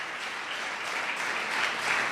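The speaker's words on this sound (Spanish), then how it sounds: "Dar un aplauso al Señor en esta tarde" A short burst of applause from a congregation at a religious service, steady and fairly loud, with many hands clapping together and no talking.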